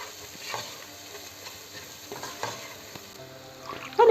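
An okra stew base with salt and red pepper sizzles gently in a pan, with soft crackling and a few stirring scrapes, quiet and close.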